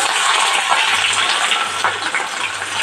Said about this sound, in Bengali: তেলটা আমার এসে গেছে, দেখতেই পাচ্ছ তোমরা। এবারে আমি পেঁয়াজ কুচি